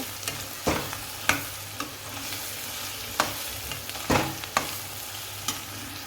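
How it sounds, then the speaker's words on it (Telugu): Soya chunks (meal maker) fry in oil with onions for a gongura curry, a steady low sizzle broken by several sharp spoon-stirring scrapes and clatters. "ఇవి కూడా ఒకసారి ఫ్రై చేసుకుందాము ఆనియన్స్తో పాటే ఆయిల్లోనే"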